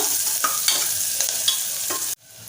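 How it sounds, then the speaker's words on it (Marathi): Chopped onion is stirred and softened in a hot pan for sprouted chana masala, a steady close sizzle with scraping stir strokes, cut off abruptly near the end. "छान परतून घेऊया कांदा हलकासा आपण परतून घेऊया नरम होईपर्यंत"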